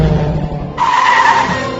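A Chevrolet car's tires skid in a commercial, a loud, sharp screech that bursts in over engine noise and holds for about a second.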